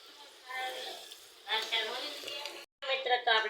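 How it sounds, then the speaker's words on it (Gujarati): Samosas frying in hot oil in a home kitchen, a soft steady sizzle and bubbling that swells and fades in short stretches, with a voice talking over it. "હવે મારી બેન તળે છે"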